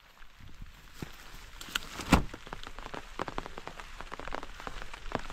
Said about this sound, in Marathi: पाऊस पण आला आता.